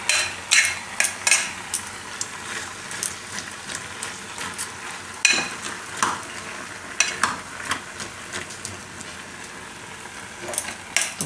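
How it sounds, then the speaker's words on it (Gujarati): Stirring sugar and vegetables for mixed halwa in a pot, with scattered scraping and tapping strokes of a spoon against the vessel over a soft cooking hiss, louder clusters near the start and middle. "થોડીક વાર ખાંડ ઓગળે ત્યાં સુધી આને આમ પાકવા દેવું, વચ્ચે વચ્ચે હલાવી લેવું."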